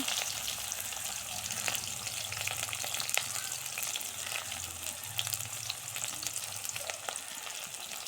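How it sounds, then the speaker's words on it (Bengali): Cumin, chopped onion and green chillies frying in oil alongside cardamom and cinnamon, a continuous close sizzle with occasional stirring clicks and scrapes, no voices. "কাঁচামরিচ এগুলি সুন্দর করে লাল লাল করে ভাজে নেব"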